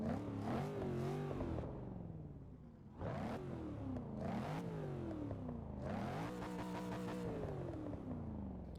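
Chevrolet Camaro Z/28 muscle car engine in Forza 6, revving hard through repeated rising and falling sweeps, loud and close with a brief dip before climbing again, no talk.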